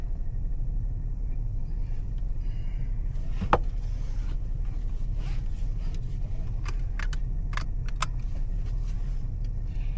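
Inside a car on a ride, a quiet steady road rumble runs throughout, with a few sharp clicks and a light jingle of keys near the end.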